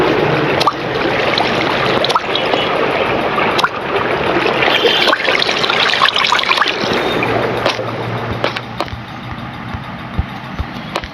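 Flowing water placed in a Minecraft survival world while building an XP farm, a steady broadband rushing and trickling that fills the whole clip at close, even loudness.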